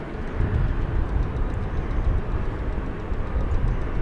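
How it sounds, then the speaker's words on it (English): An American Airlines Boeing 777-200 airliner arriving from Miami, heard as a steady, broad low rumble of jet engine roar at moderate distance, continuous throughout with no voices. "Over on the east side of the airfield, American Flight 2823 is coming in from Miami."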